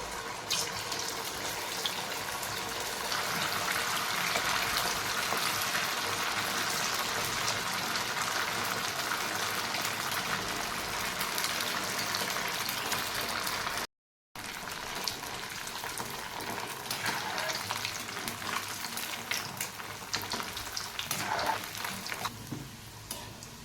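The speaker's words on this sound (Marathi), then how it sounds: "आता एक एक करून बट्टी सोडूया यामध्ये आणि छान अशी खरपूस तळून घेऊयात बट्टी" Wheat flour and semolina dal batti dumplings deep-frying in hot oil, a steady dense sizzle and bubbling that fills the clip with a brief cut to silence near the middle.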